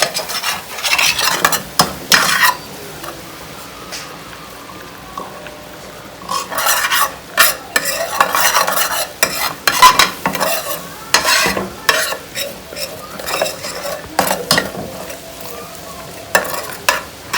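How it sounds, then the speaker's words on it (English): Honey and soy sauce teriyaki glaze being stirred in a pan over low heat, with repeated scraping utensil strokes and a soft sizzle underneath, loud and close, no talking. "turn it down real low and just get all that stirred up out of there real good"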